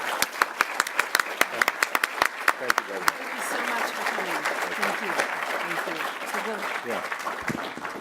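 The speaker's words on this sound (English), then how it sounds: "will you please join me in another round of applause" An audience at the Heritage Foundation applauds after a guest's speech. Loud, sustained clapping from a large crowd starts with sharp individual claps and merges into a dense roar while a speaker thanks them over it.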